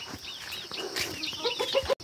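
Village chickens cluck in quick, close bursts of short calls that overlap for about two seconds.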